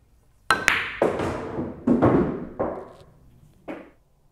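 A pool cue strikes the cue ball on a billiard table during a ghost ball aiming shot: a few sharp, distinct clicks and knocks, close and clear, with short ringing decays and no talking.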